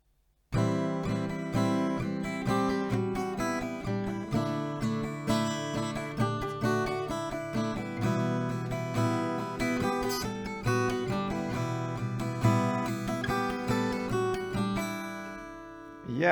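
Acoustic guitar picking the intro melody of a song, close and clear, a flowing line of plucked notes with ringing strings that runs steadily for about sixteen seconds with no voices.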